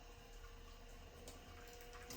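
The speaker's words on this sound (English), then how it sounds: "So my coffee machine, I have to flush it." Water rushes steadily through an espresso machine being flushed clean, a continuous hissing flow close at hand with no voices over it.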